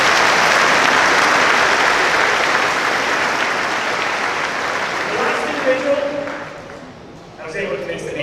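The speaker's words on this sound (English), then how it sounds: "Give them a round of applause." Applause from an audience at a class of 2025 commencement ceremony fills the space as a dense, loud wash of clapping, then fades out near the end as a voice begins speaking.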